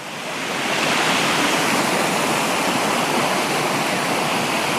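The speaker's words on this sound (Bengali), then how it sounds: "ওই সাইডে থেকে এপারটাতে জলের স্রোতটা বেশি" Strong water current rushing at Ranipur Dam, a steady, loud, broadband roar of flowing water that continues without a break and with no voices.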